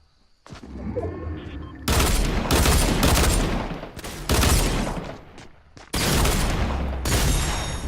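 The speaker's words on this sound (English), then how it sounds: "I like the sound of the new guns" Rapid bursts of automatic gunfire in the video game Fortnite crackle loudly in several long volleys, separated by brief pauses, with booming low-end impacts throughout.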